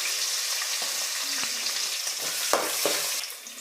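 Mustard seeds, dals, green chillies and crushed garlic frying in hot oil, heard as a close, steady sizzle with small pops and a few stirring knocks, tapering off near the end.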